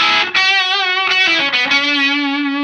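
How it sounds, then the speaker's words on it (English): Electric guitar driven through an Expandora overdrive pedal, playing smooth, saturated sustained notes with a thick distorted tone, loud and alone. "it's just a really smooth, kind of cool, killer overdrive."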